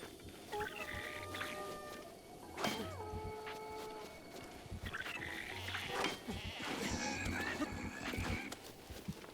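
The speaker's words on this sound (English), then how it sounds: "they are stealing sheep" Sheep bleat in Breath of the Wild, several wavering calls scattered across the scene over a busy game backdrop of rustling and combat noise, moderately loud and close.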